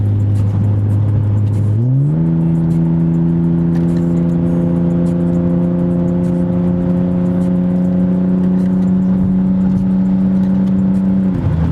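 A car fitted with eBay coilovers drives along steadily, its engine note rising sharply at about two seconds and then holding a loud, even drone under constant road noise.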